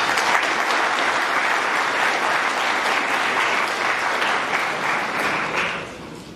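A conference audience at Yamoussoukro applauds a speaker, steady dense clapping filling the room for about six seconds before tapering off near the end.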